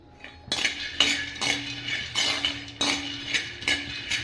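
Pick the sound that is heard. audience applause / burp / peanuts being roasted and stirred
peanuts being roasted and stirred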